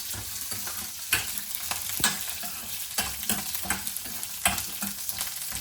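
Peanuts, chana dal and green chillies fry in a pan for peanut chutney, giving a steady close sizzle broken by regular stirring scrapes roughly once a second, with no talk.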